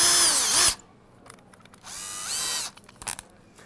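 A power drill with a ceramic tile bit boring into bathroom wall tile, whining loudly in two close bursts with a short pause between, then a few faint knocks and handling sounds.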